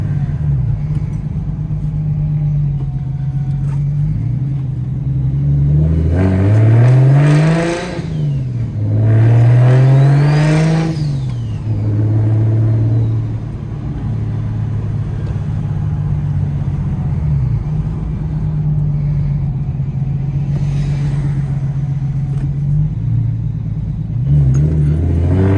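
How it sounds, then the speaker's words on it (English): A single-turbo car engine heard from inside the cabin at night, revving hard through repeated accelerations with rising and falling pitch between quieter cruising stretches, loud and close with no talking. "now you should hear the car more clear because there's no more wind like that"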